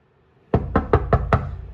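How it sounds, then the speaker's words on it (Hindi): Five sharp knocks on a door in quick, even succession, loud and close, with no voices around them. "दरवाज़ा नॉक करता हूँ"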